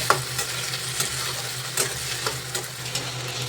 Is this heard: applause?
no